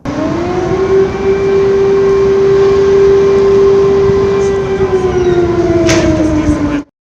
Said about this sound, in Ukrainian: Сигнал Увага всім лунав дві хвилини.